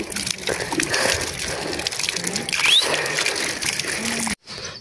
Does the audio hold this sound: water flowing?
yes